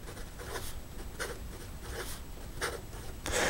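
A Totoro-themed fountain pen scratching quickly across paper in a run of fast strokes, with rhythmic nib scrapes about every half second, close and fairly clear; no speech.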